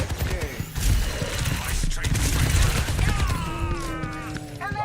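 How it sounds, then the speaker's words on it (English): Bursts of gunfire in an Overwatch ranked match, clustered shots mixed with game effects and tonal ability sounds, moderately loud and near. "Where is that guy shooting me from?"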